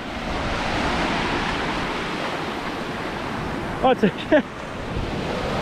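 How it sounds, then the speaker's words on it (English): Ocean surf rolls onto a beach at Eighty Mile Beach in Western Australia, a steady broad wash of waves with a brief spoken exclamation near the end. "So just watch the waves."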